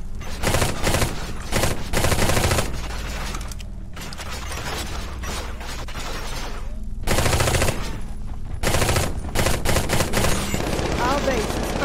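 Dense gunfire and battle noise in the Eximius game as a base comes under attack, with continuous loud bursts of shots, clanks and impacts and voices heard at times.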